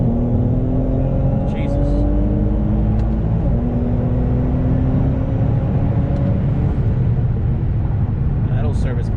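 A flex-fuel tuned Infiniti Q50/Q60 accelerating at full throttle on a bumpy, hilly road, loud sustained engine roar with rising pitch heard from inside the car, and a brief voice exclaiming.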